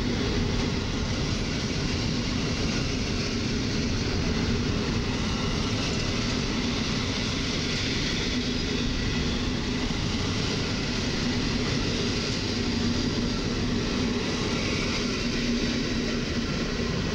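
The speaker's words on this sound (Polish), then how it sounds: "podstawia się pociąg osobowy Kolei Mazowieckich do Siedlec" A Koleje Mazowieckie passenger train for Siedlce pulls into Warszawa Zachodnia station, rumbling continuously and fairly loudly, with a steady low roar and faint rhythmic rattling of wheels, no voices heard.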